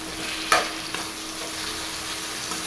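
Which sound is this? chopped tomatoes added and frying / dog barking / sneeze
chopped tomatoes added and frying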